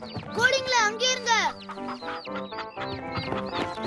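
Cartoon chickens cluck in a busy, rhythmic run of squawks and chatter, close and lively, with a voice speaking among the calls.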